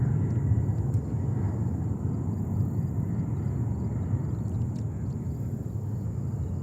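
Spanish Air Force Airbus 310 taking off at JFK, a broad, steady low jet roar heard from a distance, continuous and without talk.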